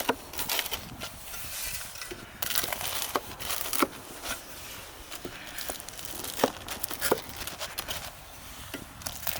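A knife saws and crunches through a hot homemade pizza topped with pastrami deli sandwich fillings, producing irregular crisp crackles and tearing sounds of crust with brief louder snaps, close up and without talk.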